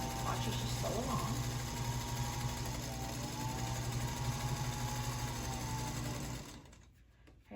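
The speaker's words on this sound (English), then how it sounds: "And watch as you sew along." A sewing machine stitches seams on a 30-inch Chapel Steps quilt block, a steady whirring hum for about six seconds before stopping abruptly near the end.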